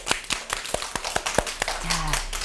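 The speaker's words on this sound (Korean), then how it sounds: "그럼 재밌게 들었으면 할머니한테 박수!" A group of young children claps for a grandmother after a storytelling session, a quick scattering of separate hand claps, fairly close, with a brief murmur of voices near the end.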